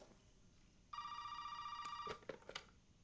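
A telephone rings in the video game Resident Evil 7, a single sustained electronic trill starting abruptly, followed by a few soft knocks and clicks in a quiet room.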